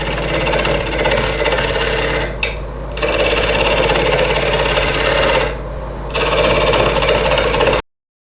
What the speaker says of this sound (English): I turned the speed of the lathe up a little bit more